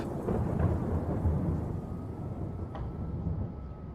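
Steady heavy rain with a deep continuous rumble of thunder rolling underneath, loud and unbroken throughout.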